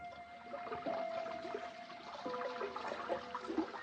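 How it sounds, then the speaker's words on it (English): Rainwater rushes and trickles steadily past a window, with splashing and gurgling throughout and a faint whistling tone running beneath, in an old radio mystery drama. "That's the way it sounded when it rained"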